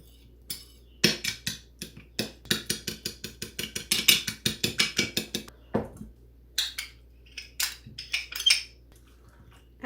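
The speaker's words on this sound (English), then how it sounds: "And I'm just gonna mix this stuff together real quick." A utensil clinks rhythmically against a bowl as orange juice is mixed with honeydew melon, a fast run of close taps with brief pauses between.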